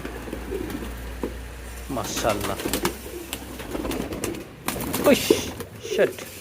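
Pigeons on a pigeon farm, some weakened after illness, coo softly in low throaty phrases beneath a voice, with occasional wing flutters and general coop noise around them.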